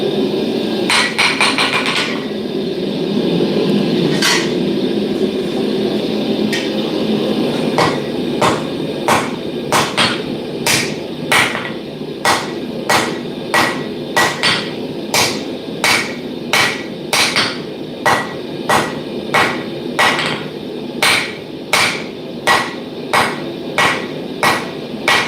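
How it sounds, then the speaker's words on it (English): A blacksmith strikes metal with a bobby hammer in a smithing shop, sharp ringing blows that start irregularly and settle into a steady rapid rhythm, loud and close with no talking. "Where is my bobby hammer? There it is."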